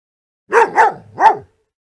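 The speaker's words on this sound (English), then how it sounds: "Can you find the dog?" A farm dog gives three sharp, close barks in quick succession, the last after a brief pause, heard alone against silence.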